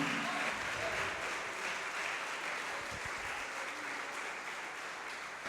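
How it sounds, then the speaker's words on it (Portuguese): Church congregation applauding during a sermon, a steady unbroken wash of many hands clapping, somewhat distant in a reverberant room, with faint low thumps near the middle. "Pode aplaudir, glorificar."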